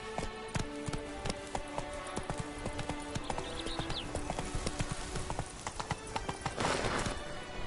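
Roach, the horse in the game The Witcher 3, gallops with rapid, close clip-clopping hoofbeats over a constant bed of game music and ambience.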